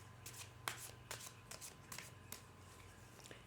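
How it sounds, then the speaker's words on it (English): Crisp riffling bursts of tarot cards being shuffled, several quick repeated passes, close and quiet with no voices. "I've pre-shuffled these cards as well, but I will give them an extra shuffle for you."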